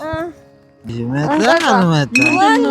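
Glasses clink in a drinking toast at night while loud, animated voices talk over the bright ring of the glass.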